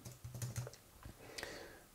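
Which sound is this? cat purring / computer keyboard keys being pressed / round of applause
computer keyboard keys being pressed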